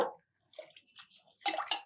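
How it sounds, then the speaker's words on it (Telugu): Rice and moong dal being rinsed in water for sweet pongal, soft splashes and swishes in short bursts with a quiet gap between, close by and fairly faint. "ముందు ఇందులో బియ్యం పోసేసి కడిగేద్దు"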